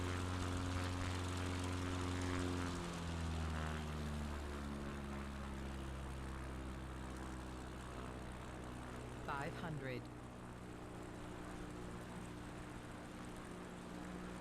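Propeller plane coming in to land at Celano in the Apennine mountains in a flight simulator game, a steady engine drone with a pitch drop early on and a brief whine near the end.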